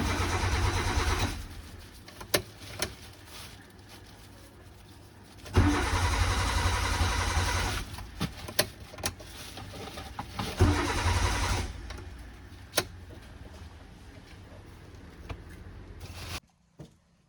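A Maruti Zen hatchback converted with swapped engine wiring cranks and starts, settling into a steady idle, with further loud cranking bursts and sharp clicks before cutting off abruptly.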